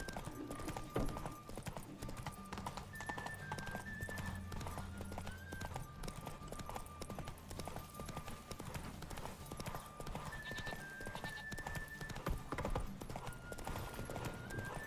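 Horse hooves clip-clop steadily at a gallop in The Witcher 3, with an occasional neigh, under a game music bed and ambient noise, continuous throughout.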